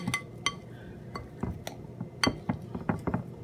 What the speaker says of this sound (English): scrape the cornbread mix from around the sides, and I want to do this with the machine turned off